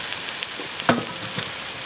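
Chili peppers being stir-fried in a wok for twice-cooked chili, a soft steady sizzle with one sharp scrape or clatter of the spatula near the middle, close and quiet.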